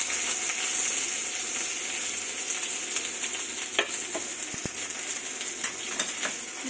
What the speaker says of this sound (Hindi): गरम हो गया और अब हम इसमें ज़ीरा डालेंगे, थोड़ा सा प्याज डालेंगे,